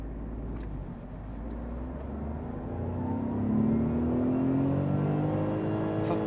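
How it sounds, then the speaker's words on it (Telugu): A 2026 Tata Tiago accelerates hard in first gear, heard from inside the cabin: the engine note climbs steadily in pitch and grows louder as revs build. "ఫస్ట్ గేర్లో మ్యాక్సిమం 49 కిలోమీటర్ స్పీడ్ వరకు వెళ్ళింది"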